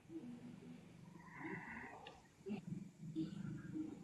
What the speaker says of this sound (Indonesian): Siapa ngorok?